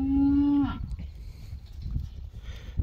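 A cow in a beef herd out in a pasture lets out one loud, drawn-out moo that cuts off after under a second, followed by quiet outdoor rustling and low rumble.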